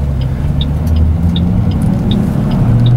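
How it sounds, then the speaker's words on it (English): Steady low engine drone from inside a car, with the pitch dipping and rising as the gears change, plus faint periodic ticking. "You can hear when I'm shifting, and you can also see it too."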